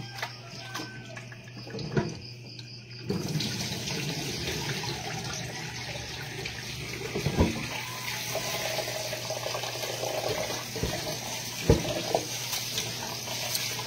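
Tap water running into a kitchen sink while sweet potatoes are washed, a steady rushing splash that starts after a short quieter stretch, with occasional knocks and clunks.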